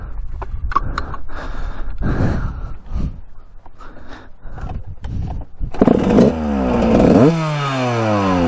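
Mostly scattered clattering and knocking, then a Suzuki RM125 two-stroke dirt bike engine fires up and revs hard near the end, its pitch sweeping up and down in a few quick blips.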